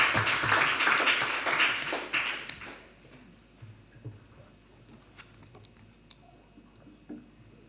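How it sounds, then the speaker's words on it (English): A conference audience applauds loudly and steadily for about three seconds, then the clapping dies away into quiet room noise with a few scattered taps. "I think you should give yourself a big clap"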